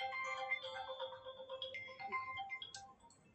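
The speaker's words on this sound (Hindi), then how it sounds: "फोन आ गया" A phone ringtone plays a bright, repeating electronic melody at low volume, steady for a few seconds with no talk over it.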